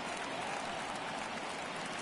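Crowd applause at a baseball stadium in Cleveland in the MLB The Show game, a steady, dense, distant clapping wash without a break.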